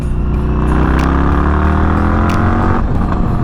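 Indian FTR motorcycle accelerating hard, its engine note rising steadily in pitch, loud and close, then dropping briefly as a gear shifts near the end.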